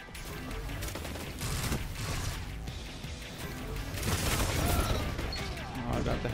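Heavy weapon fire in a first-person shooter: a busy, loud mix of shots and crashing impacts under faint background chatter, building toward the end.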